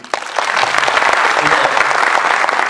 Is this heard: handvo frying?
no